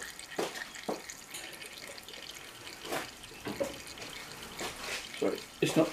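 Engine oil drains from a Ducati XDiavel motorcycle during an oil and filter change, a steady faint trickle and patter of liquid into a pan, with scattered small drips and light clinks close by.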